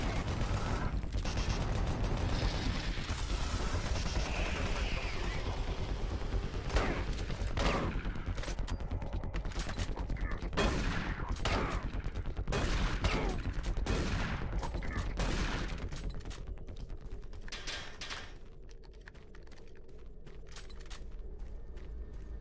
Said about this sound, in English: Just in case you didn't know what the chain gun is for.